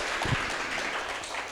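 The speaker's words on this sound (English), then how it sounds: "let's give him a round of applause as well" An audience at a community presentation event claps for the tech helper, a dense, fairly soft patter of many hands continuing steadily throughout without talk.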